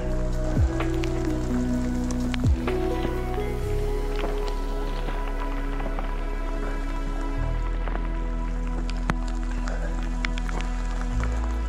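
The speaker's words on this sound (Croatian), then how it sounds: "Nadam se da će kiša stati, jer nije mi baš dron vodotporan." Steady rain patters on a steep forest trail near the Veliki Movran waterfall on Čvrsnica, a continuous soft hiss with occasional sharper drops and a faint low rumble underneath.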